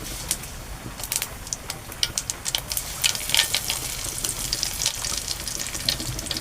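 Crushed, washed curry leaves dropped into hot oil with cumin for leftover-rice phodnicha bhaat, giving a steady crackling sizzle with scattered sharp pops throughout, fairly close and alone.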